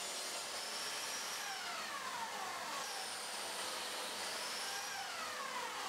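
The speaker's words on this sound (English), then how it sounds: "I could use some practice with my biscuit joiner. So I mark out the pieces for alignment and cut the slots." A biscuit joiner cuts slots in wood in a workshop, its high steady whine dipping in pitch as the blade bites during several short cuts, with no talking.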